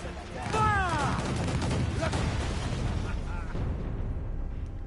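Ship cannons firing in Assassin's Creed Black Flag, a dense sustained rumble of booming shots rolling on for several seconds, with shouted voices heard over the barrage.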